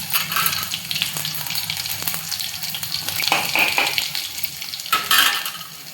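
Minced garlic frying in hot oil with mustard seeds and cumin in a kadhai, a loud close sizzle and crackle with occasional stirring scrapes against the pan.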